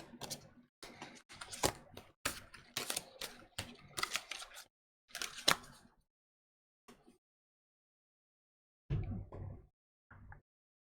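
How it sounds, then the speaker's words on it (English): Tarot cards are shuffled in quick bursts of crisp riffling and tapping, several clusters in the first six seconds, then a pause before a couple of short final shuffles, close and fairly quiet. "I'm going to shuffle the cards a bit."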